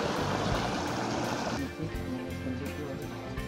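Porabari waterfall stream rushing steadily as broadband water noise, loudest in the first second and a half and then a little lower, with faint voices.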